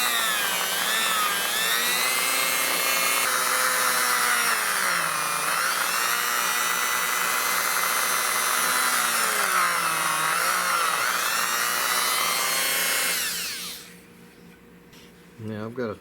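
A power drill bores into the wooden stock of a Browning Superposed Mallard shotgun. A steady, close whine dips in pitch twice as it loads up, then cuts off near the end.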